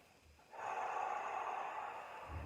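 A person holding a forearm plank takes a deep breath, a steady breathy rush that lasts about a second and a half, close and fairly loud in a quiet room, with a softer breath at the end and no talking.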